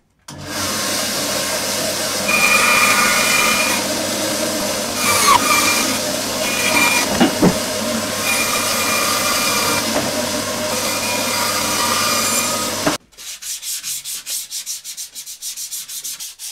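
Offcuts of 18mm plywood being cut with a power tool: a steady, loud rasping drone that runs for about thirteen seconds, then stops abruptly and gives way to a fainter rhythmic scraping.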